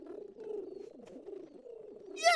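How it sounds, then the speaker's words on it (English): Cartoon doves cooing in low, soft, rolling phrases, fairly faint and continuous, with a brief higher sound breaking in at the very end. "Let's listen for the cooing of the doves."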